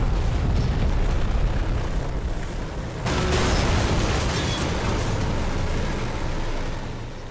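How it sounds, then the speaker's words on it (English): Secondary explosions go off in a Combat Mission: Cold War battle, a dense rumbling blast wash that surges again partway through and then lingers as crackling, booming noise. "Ooh, some secondary explosions there."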